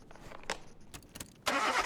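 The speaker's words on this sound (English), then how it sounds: "so we know the engine's working, or it's turning over" A car engine cranks briefly in a car mechanic simulator game during a fuel pressure test, faint clicks and ticks first, then a sudden loud turnover that catches and keeps running.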